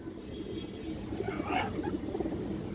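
A khaki female pigeon coos softly in a steady series of low murmuring calls over a busy background hum, with no one talking over it.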